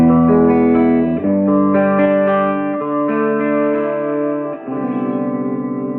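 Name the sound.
electric guitar through 1960s tube tape recorder amp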